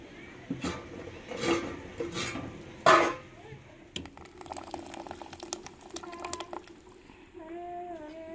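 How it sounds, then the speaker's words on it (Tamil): Fish curry with ground coconut paste bubbling in a pot, a soft steady simmer with liquid gurgles and occasional clinks of cookware, under background noise without speech. "நம்மளுக்கு குழம்பு கொதிச்சு வந்துருச்சுங்க"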